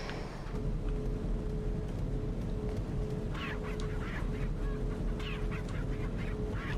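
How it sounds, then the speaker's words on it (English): Poultry in the video game Resident Evil 4 cluck and squawk in short bursts midway through, over a steady humming game soundscape; no one speaks. "There's chickens in here."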